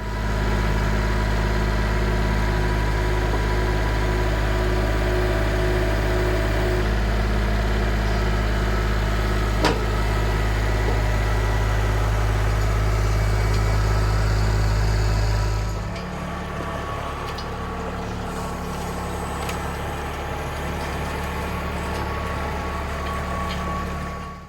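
A tractor engine idles with a steady low rumble and vibration, then drops to a quieter, lighter idle partway through.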